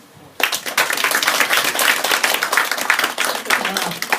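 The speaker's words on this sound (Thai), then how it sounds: "ก็ ร่วมปรบมือด้วยค่ะ" Audience applause at a Rotary club ceremony welcoming new members, bursting in suddenly after a quiet start and holding as a loud, dense, even clatter of many hands to the end.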